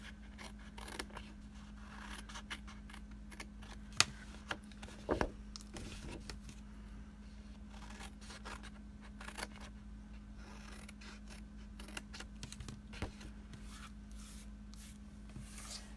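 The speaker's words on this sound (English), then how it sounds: "So cut on the outside, and then just cut up a little bit." Scissors snip through a paper box at close range, a string of quiet, irregular cuts and rustles against a steady low hum, with no talking.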